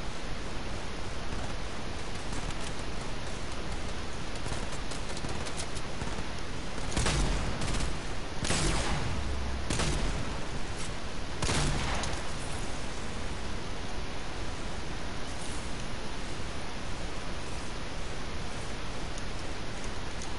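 Several sharp, distant shots ring out in Fortnite over a steady hiss of background noise, scattered in a short cluster rather than continuous fire.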